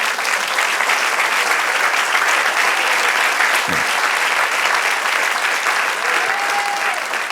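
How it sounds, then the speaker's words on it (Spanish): Steady, loud applause from a church congregation filling the whole stretch, dense and continuous, with a brief thump and a faint tone near the end. "dale un aplauso al Señor"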